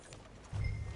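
Horse hooves pound the ground as horses gallop up in Red Dead Redemption 2, with a short burst of heavy, close thudding in the second half.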